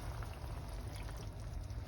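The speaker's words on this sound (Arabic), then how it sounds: "احط نص كوبايه ميه بس" Half a cup of water poured into a cooking pot of tomato sauce with diced potato and eggplant casserole, a soft steady splashing stream held close for about two seconds with no talk.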